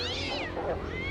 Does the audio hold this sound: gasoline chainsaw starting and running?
no